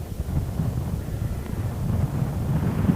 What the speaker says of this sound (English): Beautiful night in Austin, but windy.